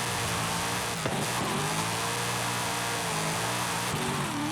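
A Mitsubishi Lancer Evolution X drift build in Forza Horizon 5 drones steadily at high revs, with two brief dips where the engine note drops and picks back up, loud and continuous with no talk.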